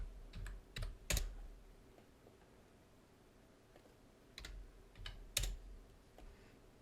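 Faint, sparse keystrokes on a computer keyboard while working on a 3D model, two short bursts of clicky taps separated by a quiet pause.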